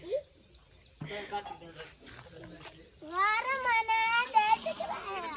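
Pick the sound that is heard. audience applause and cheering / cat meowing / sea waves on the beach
cat meowing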